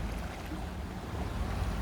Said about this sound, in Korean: 갑자기 파도가 무섭게 느껴지지